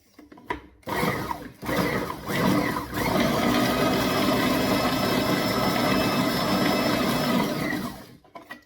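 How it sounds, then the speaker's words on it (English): A blender blitzing chilli peppers with salt whirs loudly and continuously after a couple of short start-up pulses, its motor churning steadily before cutting off. "quick sort of blitz, add the salt, and then we're going to use the blender"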